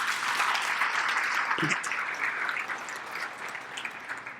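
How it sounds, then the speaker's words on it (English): Audience applause at an awards evening, steady dense clapping from a large crowd throughout, fairly close and even. "Let's give them a round of applause."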